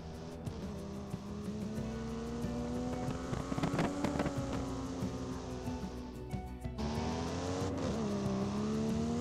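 A car in the driving game Rent a Car 2024, a budget Skoda-like model, drives with a steady engine drone that rises and falls in pitch, fairly quiet, without talk.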